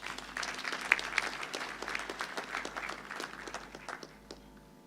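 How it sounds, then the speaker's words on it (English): Graduation ceremony audience at a university applauding the Pro-Chancellor, a sustained wash of many hands clapping in a large hall, steady then tapering off near the end with no speech over it. "Kindly give our Pro-Chancellor another round of applause."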